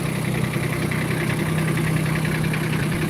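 A Solis 26 mini tractor engine idles close by in a steady, unbroken drone with a low mechanical hum and rattle. The level stays even and nobody speaks over it.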